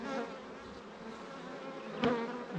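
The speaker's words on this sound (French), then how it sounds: "Tellement qu'il y a des abeilles, ça me pousse les cadres de travers" Dense droning hum of honeybees crowding the frames of an opened hive during queen rearing, a steady close buzz with a brief louder swell near the end and no voices.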